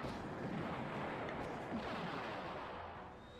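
Tanks shelling an outpost in the Battle Engine Aquila game produce a dense, continuous wash of explosions and artillery rumble. The barrage is loud and unbroken and fades a little at the end, with no talk.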